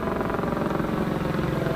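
A sheriff's helicopter passes overhead during a Sacramento County deputies' search, its steady rotor thrum and engine drone filling the air continuously and fairly loud, with no one speaking.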